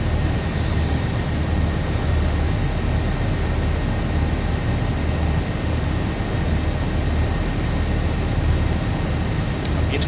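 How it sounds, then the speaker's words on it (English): A Boeing 737-800, Zibo mod, on its takeoff roll in a flight simulator out of Inverness: a steady, broad engine roar and rumble that stays constant and loud for the whole stretch. "Just let me just finish the takeoff roll"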